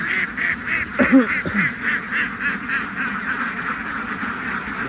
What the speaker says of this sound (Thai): ถ่ายให้ดูชัดๆเลยนะครับดูเป็ดนะครับ สวยๆใหญ่ๆบึกๆเลยนะครับ